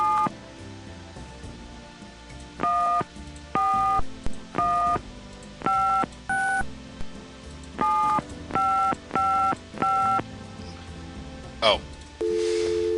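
A telephone is dialed in the Gabriel Knight: Sins of the Fathers video game, about a dozen evenly spaced touch-tone beeps forming a steady sequence, followed by a short rising tone and a ringing signal.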